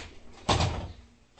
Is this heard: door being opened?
yes